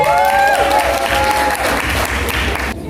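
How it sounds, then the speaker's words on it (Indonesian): Applause from an audience at an Indonesian company event, with tonal music-like lines over the start, a dense clapping wash holding steady for nearly three seconds before cutting off abruptly near the end. "Tepuk tangan."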